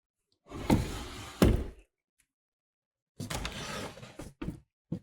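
A drawer of eyeshadow palettes slides open and shut, two loud close rumbling glides followed after a silence by another long slide and a few knocks.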